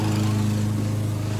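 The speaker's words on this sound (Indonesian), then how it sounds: "potong rumput" A lawn mower cutting grass during yard work at a house in Minnesota, its engine droning steadily and close with no break.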